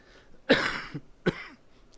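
A man clears his throat with two short coughs, the first louder and longer, the second a brief hack, in a quiet room during a sermon.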